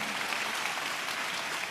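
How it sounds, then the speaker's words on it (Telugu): A church congregation claps hands in praise, a dense, even burst of applause filling the room for a couple of seconds with no voices over it. "చప్పట్లు కొడుతూ స్తోత్రాలు చెప్తా."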